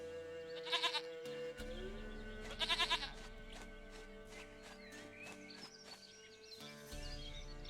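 A goat bleats in The Witcher 3: Wild Hunt, giving two quick, wavering cries a couple of seconds apart over soft in-game music and ambience.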